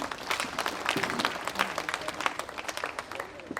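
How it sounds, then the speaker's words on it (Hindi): An audience at a Hindi poetry gathering (kavi sammelan) claps in a dense, steady round of applause that runs throughout, moderately loud, with some voices mixed in. "इसके लिए एक बार आप सब अपने लिए तालियां बजा दें।"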